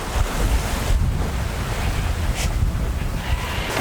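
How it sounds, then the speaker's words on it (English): Strong wind buffeting the microphone aboard a sailboat at sea in rough conditions with winds around 25 to 30 knots, a loud continuous roaring rumble mixed with wave and water rush. "I hope you can hear me with all the wind noise."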